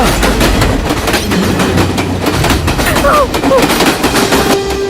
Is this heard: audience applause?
no